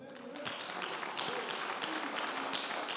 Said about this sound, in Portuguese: As palmas para o Senhor.